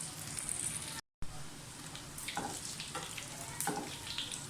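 Beef shami kababs frying in a hot pan give off a steady close sizzle with light crackles, broken by a brief dropout and a few soft scraping stirs.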